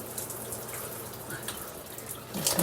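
Water from a shower panel tower runs steadily at close range, a continuous broadband hiss with a rising gush near the end, heard alone without talk.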